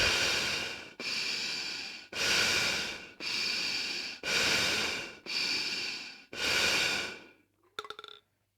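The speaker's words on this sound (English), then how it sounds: "continue breathing in and out through the tube so that the ping pong ball stays" Seven slow, even breaths pass in and out through a tube holding a ping pong ball, each a loud airy rush about a second long, followed by a short rattling click at the end.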